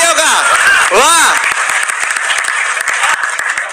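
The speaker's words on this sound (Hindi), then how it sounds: "जोरदार तालियां, एक बार महोत्सव दे तालियों का" Loud audience applause fills a Hindu speech event, a dense wash of clapping that swells and holds steady throughout, with some crowd voices or whoops rising over it near the start.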